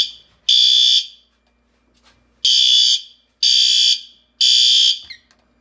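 SpectrAlert Advance fire alarm horns blare indoors in four loud, piercing blasts of about half a second each, with a gap after the first and quiet in between.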